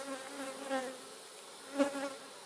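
Bees carrying pollen buzz among clover, a faint, close, steady hum with a couple of louder passes as insects fly near.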